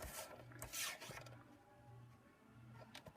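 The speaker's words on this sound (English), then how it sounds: "I'm just going to cut the foil out to frame size here" Tim Holtz paper trimmer blade sliding through foil, close rasping strokes with a soft scrape and a faint repeating low hum beneath, no voices.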